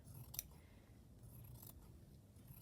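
Scissors snipping through fabric during a slow-stitching project, a couple of quiet, brief crisp cuts, close and soft over a low background hum.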